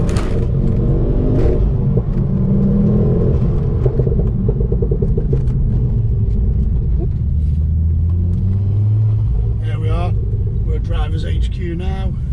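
A Ford Focus ST225 engine rumbles steadily under load from close by, with a continuous low growl and a few crackling pops and burbles, while someone talks over it.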